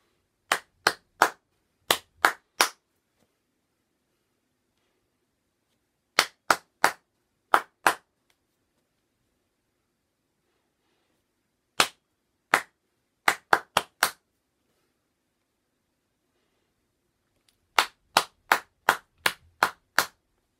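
Children clapping hands together in an early years music game, short sharp groups of claps in rhythmic patterns separated by silent pauses, crisp and close.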